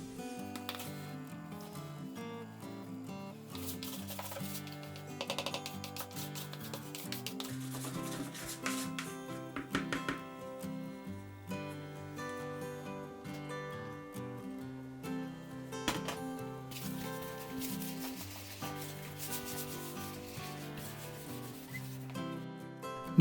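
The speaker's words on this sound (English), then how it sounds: "Now start to bring the dough together as shown." Bread dough for stottie cake being kneaded and worked on a worktop, soft rhythmic rubbing and pressing strokes heard close, with light music playing throughout.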